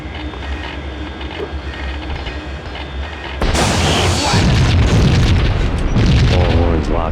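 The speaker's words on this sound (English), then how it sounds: "Here, let me just throw a grenade in there." A grenade goes off in Max Payne on the PS2, preceded by a low rumbling ambience before a sudden loud blast whose roar and debris noise sustain for several seconds, with a brief voice near the end.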